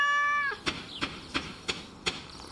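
In the Stardew Valley farming game, a cat meows once in a drawn-out call, followed by a series of short evenly spaced clicks or taps, all close and clear with no talking.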